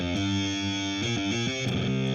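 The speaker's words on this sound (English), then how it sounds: "it's not doing reverb, it's doing a boxy guitar amp" Distorted, sustained tones shaped by a Klangfalter convolution plugin set as a boxy guitar amp, dense and buzzy with shifting pitches, loud and continuous for about two seconds without any voices.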